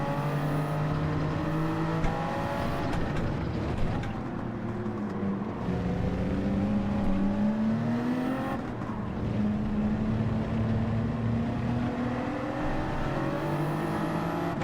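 A race car's engine revs in the Gran Turismo 7 racing game during an online race, with the pitch climbing and dropping as gears shift. It is a continuous, fairly loud drone, joined by other cars close behind, and no one speaks.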